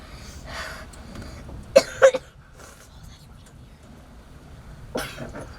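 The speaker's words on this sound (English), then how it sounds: "he's either breathing heavily or coughing" A man coughs in a few sharp, close bursts and breathes heavily after exposure to cold water while sailing, with quieter breaths between the coughs and another cough near the end.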